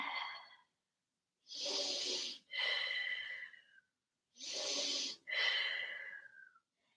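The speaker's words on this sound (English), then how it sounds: "Breathe a lot." Deep breathing during a yoga flow class: two long, strong breath cycles, each a loud airy inhale followed by a raspy exhale, close and alone with brief silences between.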